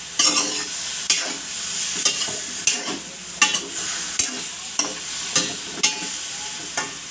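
Spoon stirring tuna sinigang soup in a pot, with repeated light scraping and clinking strokes in an irregular rhythm over a soft simmering hiss.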